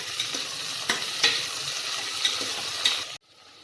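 Onions fry in a pan with a steady loud sizzle and a few sharp stirring clicks, then the sound cuts off abruptly near the end.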